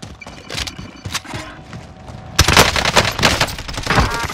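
Gunfire crackles in Call of Duty Warzone, a video game battle: scattered close shots, then heavier rapid automatic bursts, loud and dense, with shouting voices mixed in.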